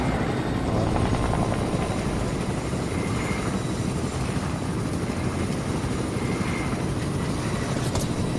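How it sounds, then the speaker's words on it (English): A steady, loud helicopter rotor drone from a video game fills the whole stretch, continuous and close, with no speech over it. "I don't know how to get off the helicopter."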